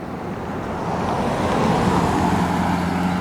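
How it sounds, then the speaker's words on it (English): A car passes on a road outdoors at night, a steady broadband roar that swells gradually and holds near its peak toward the end, mixed with wind and low rumble. "I'm going to try to show you guys with this car passing."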